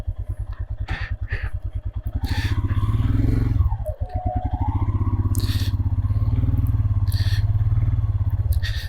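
A Royal Enfield Himalayan motorcycle rides along a muddy mountain road, its single-cylinder engine thumping steadily and loudly up close, pitch rising and falling with throttle changes and a brief dip mid-ride, with light clatter throughout.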